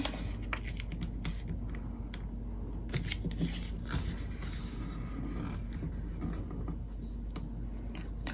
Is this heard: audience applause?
no